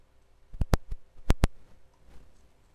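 A computer mouse clicks crisply during work on a Vue.js programming lesson: a few isolated sharp clicks followed by quick pairs, close and distinct over a quiet background hum.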